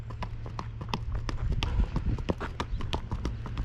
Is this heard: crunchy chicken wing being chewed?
no